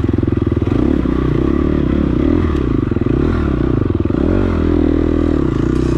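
A dirt bike in a muddy sprint enduro race roars loudly and continuously up close, its engine pitch rising and falling with throttle changes amid clattering and scraping.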